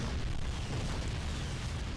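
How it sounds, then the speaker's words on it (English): Explosions in the video game Crysis Remastered, played on a Steam Deck, rumble as a dense, continuous booming roar with heavy low end throughout. "Let's see those explosions."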